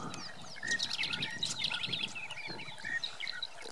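Several birds chirp and call in lively overlapping bursts in Pilanesberg bushveld just after rain, bright tweets and trills close by against a quiet, damp background.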